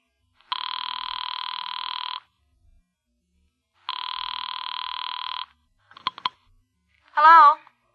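Two long electronic rings on a telephone after dialing a daughter's number, each lasting over a second with a pause between, then a click as the line is picked up and a voice begins to answer.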